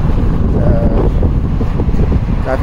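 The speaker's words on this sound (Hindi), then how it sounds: "काफ़ी तेज़ हवा चल रही है" Strong wind blows through the streets of Makkah on a hot day after Friday prayers, roaring steadily and loudly into the microphone for the whole stretch, with no speech over it.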